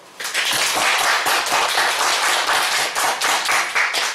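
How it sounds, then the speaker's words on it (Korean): A church congregation claps together in a sustained burst of applause, dense, steady and fairly loud from start to finish, with no voices over it. "박수."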